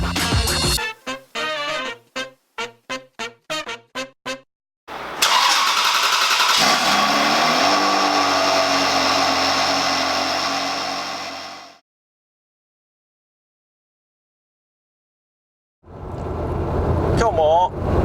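A Ferrari drives on the Chuo Expressway toward Lake Sagami. A loud, close engine roar builds and holds for several seconds, then cuts off to silence and returns, with brief bursts of voice at the start.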